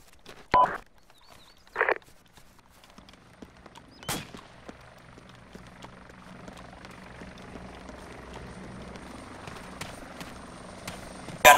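A military helicopter in the video game Arma 2 builds into a steady, rising rotor drone that grows louder toward the end, after a few sharp, isolated bangs and impacts near the start.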